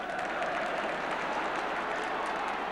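Football crowd at Carrow Road during a Norwich City home match against Liverpool, a dense, even roar of cheering and applause heard at a distance, steady throughout.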